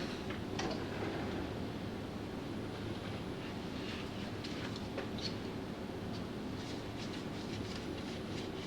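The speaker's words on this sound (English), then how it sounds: "Yep, that's the train." A model train rumbles along steadily nearby with light rhythmic clicks and rattles over a continuous low hum.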